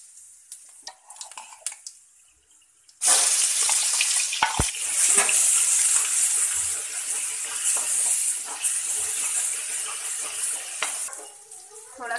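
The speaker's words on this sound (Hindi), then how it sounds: "ऑयल हमारा गर्म हो गया है और अब हम इसमें जो हमने प्याज, लहसुन, अदरक का पेस्ट बनाकर तैयार किया है उसको डालेंगे" Onion, garlic and ginger paste hits hot oil for a dhaba-style masala cauliflower dish, bursting into a loud, sustained sizzle after a few quiet seconds, with brief stirring clinks, close up and without speech.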